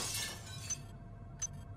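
A wrench smashes glass in the System Shock 2 video game: a sharp shattering crash, then a couple of small tinkling clinks from falling shards, close and clear with no talk.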